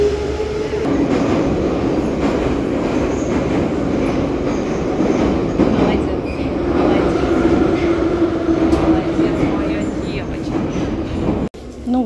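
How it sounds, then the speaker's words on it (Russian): A St Petersburg metro train running toward Krestovsky Island: a steady, loud rolling rumble with rattling carriage noise throughout, then a brief dip near the end, with faint voices under it. "Сейчас мы сядем и поедем в вагончики."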